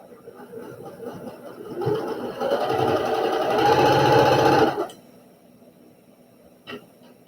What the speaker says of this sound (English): I am sewing with a gray thread